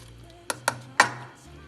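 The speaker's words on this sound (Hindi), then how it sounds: "और इसको मिक्स करते जाएंगे हल्की सी आंच पर" A few sharp spoon knocks against a cooking pot while custard with sugar is stirred on a low flame, three distinct taps close together, near and fairly quiet, with no voices.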